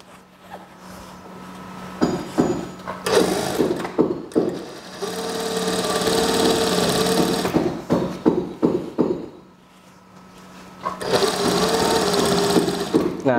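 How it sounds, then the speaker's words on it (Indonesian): A sewing machine stitches skirt pleats in bursts of rapid mechanical whirring and clicking, running steadily for several seconds, pausing briefly, then starting again, close and loud with no talking. "Kemudian kita jahit juga sisi yang sebelahnya."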